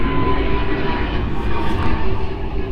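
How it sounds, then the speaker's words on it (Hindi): An airplane passes overhead near an airport, a loud, continuous low roar that fills the whole moment with no speech on top. "मैं एयरपोर्ट के पास रहता हूँ तो जहाज़ यहाँ से गुजरते रहते हैं"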